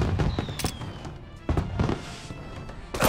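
Sharp gunshots from a pistol in Mafia Definitive Edition: three loud, punchy bangs spaced about a second or more apart, each with a short reverberant tail over steady game ambience.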